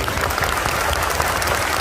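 Dense, sustained applause from an audience at a network marketing seminar, loud and continuous throughout without pauses.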